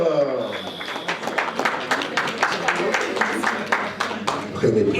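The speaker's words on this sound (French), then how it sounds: "On applaudit très fort." A crowd applauds at a 10th wedding anniversary and 50th birthday celebration, giving steady rapid clapping throughout. Loud voices and a tonal whoosh sit over it at the start.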